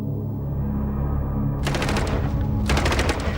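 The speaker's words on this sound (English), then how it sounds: "When the police opened fire, Hitler's 1923 putsch came to an end." Police opening fire during Hitler's 1923 putsch: after a steady low hum, rapid bursts of gunfire rattle in two loud volleys, dense and continuous, with no voices.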